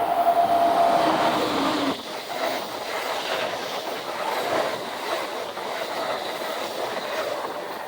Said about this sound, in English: Why Amtrak trains are running on the local track?